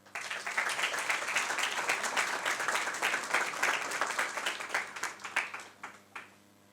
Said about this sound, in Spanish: que merece de nuevo un aplauso